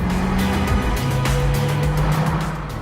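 An early-1980s Mazda RX-7 with a 1.2-litre twin rotary engine drives past, a smooth steady engine drone with rushing road noise that stays loud and close throughout the short stretch, without talk.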